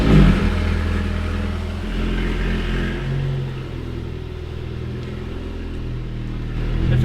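Alpine A110 sports car engine turning over, with a loud, deep, steady rumbling idle close by and a slight rise in revs toward the end, no talk.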